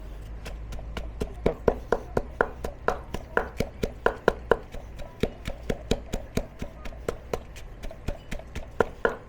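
Chilies and palm sugar pounded in a mortar with a pestle, a close, regular run of sharp knocking thuds repeating roughly three times per second for the whole stretch, with a low hum beneath.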